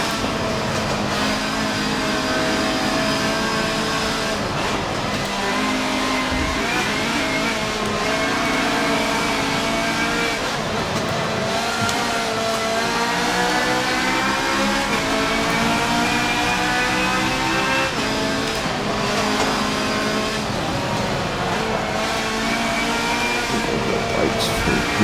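A Ferrari race car in a racing video game is driven around the Nürburgring, its engine screaming steadily and loudly for the whole stretch, with revs rising and falling through gear changes and braking.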